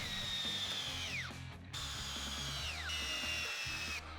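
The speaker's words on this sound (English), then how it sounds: "use your self-centering bit to drill some pilot holes" A power drill with a self-centering bit whines up and winds down twice in short bursts, drilling pilot holes into wood at close range.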